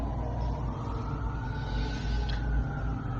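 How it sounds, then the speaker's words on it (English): Emergency vehicle siren wailing outside, faint and distant, a steady rising and falling tone over low rumbling room noise throughout. "the sirens make me feel at home"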